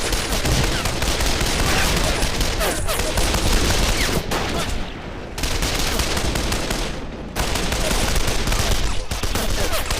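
Machine gun fire in a WWII video game battle at Küstrin, dense continuous volleys of rapid automatic shots layered over each other, loud and close, with two brief lulls before the fire resumes.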